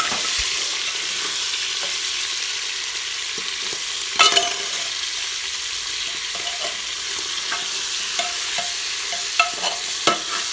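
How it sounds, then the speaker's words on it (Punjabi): Chicken meat frying in a pan for a home-style desi dish, a steady loud sizzle with occasional stirring scrapes and clatters, no voices. "ਸਭ ਤੋਂ ਪਹਿਲਾਂ ਆਪਾਂ ਮੀਟ ਨੂੰ ਫਰਾਈ ਕਰ ਰਹੇ ਹਾਂ ਜੀ"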